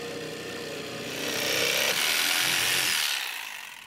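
A power saw cuts through half-inch plywood to shape a halfpipe transition. It makes a close, steady, harsh rasp that grows louder partway through and then fades near the end.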